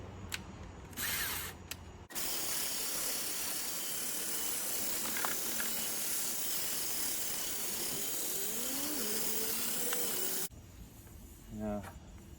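A van's headlight is wet-sanded by hand with 500 grit sandpaper from a 3M headlight restoration kit, giving a steady scratchy hiss for about eight seconds, framed by brief quieter moments.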